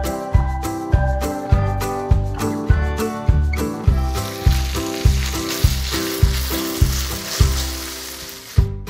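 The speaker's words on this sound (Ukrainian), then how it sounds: "Обсмажуватимемо шматки курятини на вершковому маслі." Rhythmic background music plays throughout, and a hissing sizzle of chicken pieces frying in butter in a pan rises beneath it in the second half.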